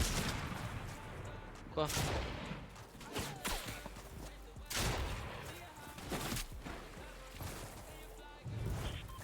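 Gunfire in the video game Fortnite bursts out in several loud, sharp volleys a couple of seconds apart, each with a short trailing crackle. Someone speaks briefly between the shots.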